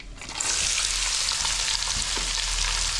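Onions and four green chillies frying in oil in a pan while cooking a cauliflower curry, a steady, close, loud sizzle with a broad hiss that holds evenly throughout, no voices.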